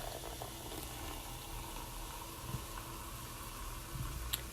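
La Croix sparkling water poured into a teacup, a steady continuous splashing pour with fizzy hiss, close and fairly quiet, with no voices.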